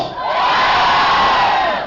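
A comedy bar audience shouting together, a loud sustained collective yell that swells and holds for about two seconds.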